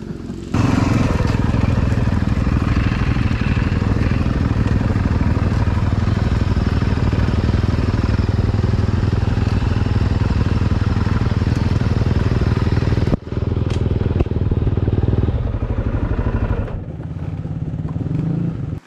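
A motorcycle engine running close and loud, a constant rough droning idle for most of the clip, with a brief dropout and a slightly lower tone near the end.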